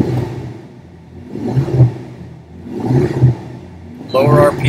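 Pontiac Firebird Trans Am engine under ignition diagnosis, run at partial throttle around 1800 RPM: a steady low rumble that swells in rhythmic surges roughly every second and a half, with a voice cutting in near the end.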